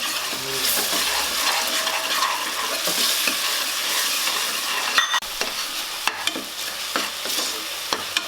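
Ginger garlic paste sizzles and fries in a pan over green chillies while being stirred, a steady close crackle broken by a few sharp scrapes of the spoon near the end, with no talking.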